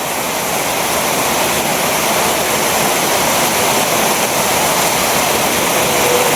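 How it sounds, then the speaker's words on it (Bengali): Loud, dense roar of heavy rain, an unbroken wash of noise that stays constant throughout, no talking. "বৃষ্টির গতি আরো বাড়তেছে"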